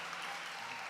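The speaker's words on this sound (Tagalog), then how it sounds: "Ang hina naman ng palakpak na yan." A church congregation claps in a steady wash of applause, even and moderately loud throughout with no voices.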